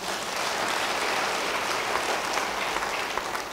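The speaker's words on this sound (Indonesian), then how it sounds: "Beri tepuk tangan bagi dia." A church congregation applauds during an Indonesian sermon, a dense, steady clatter of many hands clapping together that holds at an even level for several seconds.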